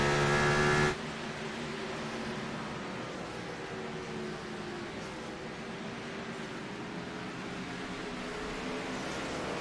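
Race cars lap Bristol during the Bristol Night 250, a steady distant engine drone after a brief louder burst at the start, with no voices.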